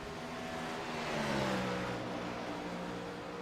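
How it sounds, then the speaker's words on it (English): A race car in a Dynasty Racing League event at Dover Speedway drives down the backstretch, its engine droning loudly and steadily at a distance with a slight swell and falling pitch as it passes. "Listen to that car sitting down the backstretch."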